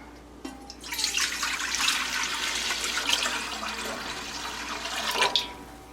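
Distilled white vinegar pours steadily into a cooking pot while making a pickling brine for canned carrots, a continuous splashing liquid stream lasting several seconds, close and fairly loud, with no talking.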